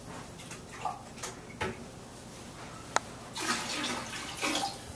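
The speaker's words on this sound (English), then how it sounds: "we're manually adding this water to the tank" Water poured by hand from a bucket into a home toilet tank, faint splashing and trickling with a few soft knocks and a sharp click, swelling into a steadier pour toward the end.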